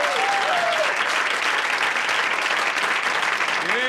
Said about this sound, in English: How about another round of applause for our host for the evening